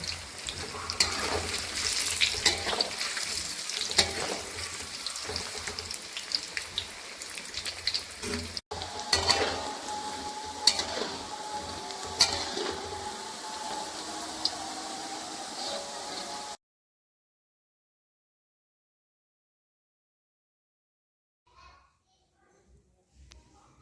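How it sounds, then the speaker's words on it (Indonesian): Tempeh fries in hot oil for about sixteen seconds in a home kitchen, a steady, dense crackling sizzle with faint children's voices in the background, then the sound cuts off to near silence. "Setelah itu tempenya juga digoreng."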